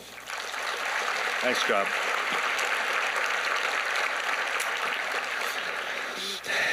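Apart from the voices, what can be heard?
audience applause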